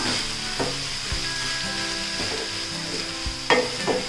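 Green chillies stirred into tomatoes frying in a pan, steady sizzle and hiss with a spoon scraping and knocking the pan a few times, up close and with no talking.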